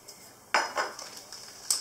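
A measuring cup is set down on a kitchen surface, giving a couple of close, bright clinks and a later ringing tap, sharp and short against a quiet room.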